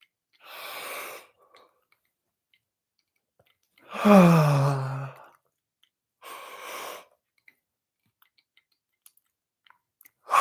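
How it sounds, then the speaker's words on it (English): Three separate breathy yawns spaced a few seconds apart, the middle one loudest with a voiced, groaning tone, the others softer and airier. "One more big yawn."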